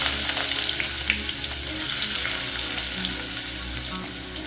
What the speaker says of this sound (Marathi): तेल गरम झालेलं आहे तर यामध्ये मी पहिला कांदा टाकून घेतो